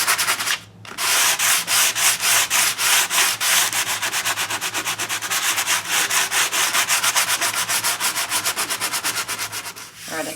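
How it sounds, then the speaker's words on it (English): Rhythmic back-and-forth hand sanding of a paper collage with a sanding block, loud close scratchy strokes repeating quickly and evenly after a brief pause. "I grabbed my sanding block, you know me. I'm just going to go over it real quick and tear it up"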